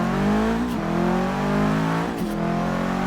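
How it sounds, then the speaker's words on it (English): A 500hp Subaru Impreza WRX STI hatch in Forza Horizon 3 revs hard near 6,000 RPM and launches, the engine note climbing loud with brief shift dips and a touch of tire squeal. "Just do maximum revs this time."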